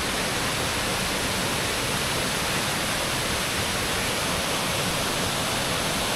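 Kempty Falls waterfall in Mussoorie, a steady, loud, broadband roar of rushing water that stays unchanged from start to finish.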